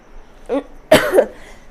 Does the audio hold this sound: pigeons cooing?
no